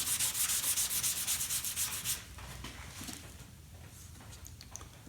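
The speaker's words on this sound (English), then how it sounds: "And then just start to rub off the excess" Cloth dampened with water rubbed briskly over grain filler on guitar wood, a steady scrubbing hiss with rhythmic strokes for about two seconds, then quieter scattered rubbing and faint handling noises.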